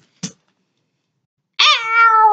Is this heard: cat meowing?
yes